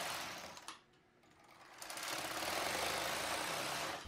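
A knitting machine works rows of 1x1 ribbing for a cabled hat: a loud, steady mechanical whirring rattle, broken briefly by a short lull near the start before the carriage runs on continuously.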